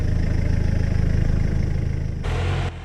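A Toyota HJ47 Landcruiser with a locked rear differential labours up a rocky hill, its engine a close, steady, loud drone with pulsing low rumble that shifts briefly near the end.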